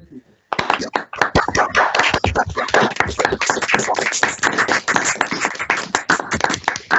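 Participants in an online webinar on surge in fluid transfer systems applaud the speaker Dermot, with a sharp, dense burst of close clapping starting abruptly and continuing steadily, while voices speak underneath.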